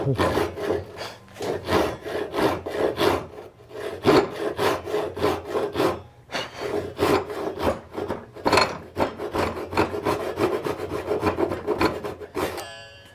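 A hand saw cuts a dovetail socket into a wooden leg, with steady rhythmic rasping strokes, close and loud, pausing briefly before resuming with no voices.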